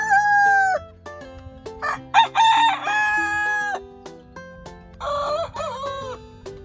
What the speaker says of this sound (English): The roosters started crowing.